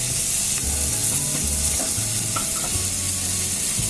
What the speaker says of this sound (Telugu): ఇప్పుడు నానబెట్టుకొని ఉంచుకున్న శనగపప్పు వేస్తున్నాను